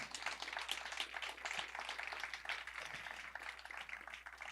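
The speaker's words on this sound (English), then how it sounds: "give another round of applause to Sara" An audience at an outdoor poetry reading in a park claps, giving a faint, steady patter of many hands that carries on evenly for several seconds with no voices over it.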